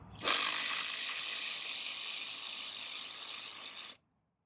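A ratchet wrench loosens a T30 Torx screw holding a clip in the engine bay of a Mercedes-Benz BluTec, a steady rapid clicking whir close by that runs for about four seconds and then stops abruptly, with no talk.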